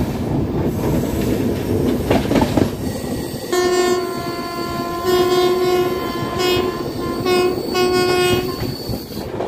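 Uday Express double-decker train entering a road-cum-rail bridge on the Visakhapatnam to Vijayawada route, with steady loud rumble of wheels and carriages and a long sustained horn blast sounding in several bursts, no talk.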